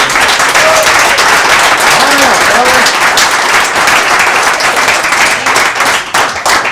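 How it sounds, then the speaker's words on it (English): Loud, sustained applause from an audience saluting a cast of costumed players after a historical reenactment show, steady clapping throughout with a few voices calling out underneath. "give a nice big round of applause for all our little cast of players here"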